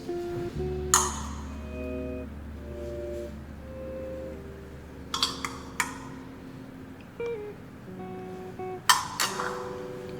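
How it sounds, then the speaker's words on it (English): A spoon clinks against glasses while berry mix is spooned into each one, giving a few sharp ringing taps spaced several seconds apart over a steady low kitchen hum. "So in each of these glasses, just a good spoonful of the berry mix."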